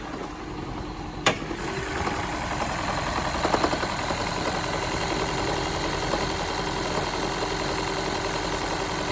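A Toyota Prius 20 engine idles with the hood open, running roughly and rattling from a misfiring cylinder, a steady continuous rumble with a brief sharp knock near the start.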